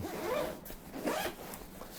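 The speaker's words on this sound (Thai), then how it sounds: "ช่องหลักเป็นซิปสองทาง" The two-way zipper on the main compartment of an Incase Crosstown backpack is drawn in two quick, close, raspy pulls with a short pause between them, heard alone and fairly quiet.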